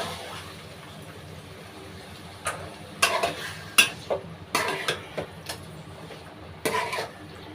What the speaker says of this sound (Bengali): এবারে আমি মরিচের গুঁড়াটা মাংসের সাথে ভালো করে মিক্স করে দিচ্ছি।